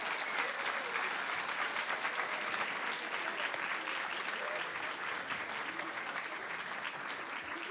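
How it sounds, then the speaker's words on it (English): A live storytelling event audience gives a sustained, warm round of applause, dense clapping filling the room at a steady level throughout without pause. "let's give just one more really warm round of applause for Rebecca and Eric."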